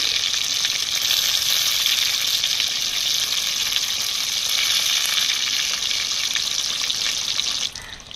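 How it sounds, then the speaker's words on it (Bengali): Sand fish cutlets fry in hot oil in a pan, producing a loud, continuous close-up sizzle and crackle that stays even throughout and eases slightly at the end. "কাটলেটগুলো কিন্তু 1 মিনিট অন্তর অন্তর আমি উল্টে দেবো, তাহলে মাছগুলো খুব সুন্দর ভাজা হয়ে যাবে।"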